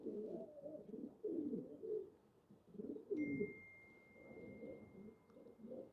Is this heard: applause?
no